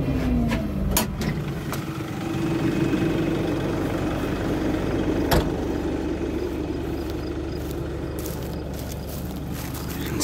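A steady low tractor engine rumble idles continuously beside a soybean field, with a faint whine and occasional clicks and knocks over the drone.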